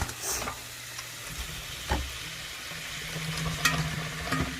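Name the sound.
sweet potatoes added to a pan of greens, frying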